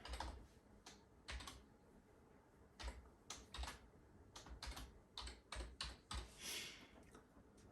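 A password being typed on a computer keyboard during a Raspberry Pi setup, close, crisp key clicks arriving in short irregular bursts with pauses between, in a quiet room.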